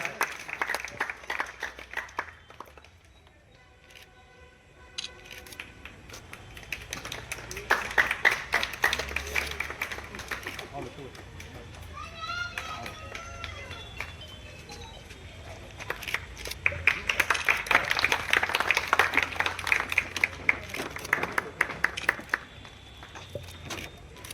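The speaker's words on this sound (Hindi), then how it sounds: "तालियां आप लोगों की जोर से बजना चाहिए।" Crowd applause at an outdoor public gathering with a police superintendent present, bursts of clapping that swell, fade and swell again over mixed background noise.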